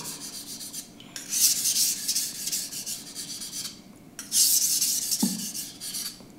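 A knife blade is drawn across a King 1000 whetstone in two long strokes, each a loud, gritty rasping scrape, separated by quieter handling sounds.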